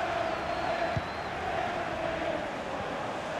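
Stadium crowd ambience in the FIFA 21 football video game during a Liverpool versus FC Midtjylland Champions League match: a continuous, even wash of distant crowd roar with no clear peaks.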